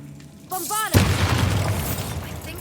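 The Bombarda spell in Hogwarts Legacy sets off a loud booming explosion that rumbles and fades, after a short shouted voice and a brief rising magical shimmer.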